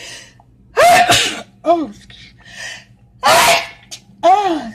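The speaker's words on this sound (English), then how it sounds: "I didn't sneeze over in the food." A person sneezes loudly several times in quick succession, with sharp breaths drawn in between, close up.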